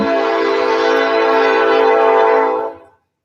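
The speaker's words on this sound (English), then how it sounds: "While I wait for this train to go by" A train rumbles past up close, loud and steady with a droning horn-like tone, then cuts off abruptly near the end.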